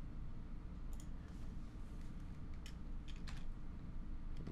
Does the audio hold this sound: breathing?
no